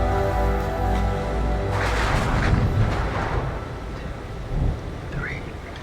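Thunderstorm in the horror game Man of Medan: deep rolling thunder rumbles continuously with rain hiss, loud and close, a swell near the middle and another crack toward the end.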